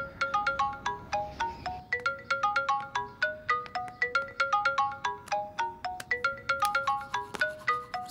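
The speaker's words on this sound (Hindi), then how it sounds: "अमेरिका से किसी सीनू का फोन है।" A telephone ringtone playing a bright, repeating electronic melody of quick plucked notes in steady phrases, fairly quiet and clear, with no voices over it.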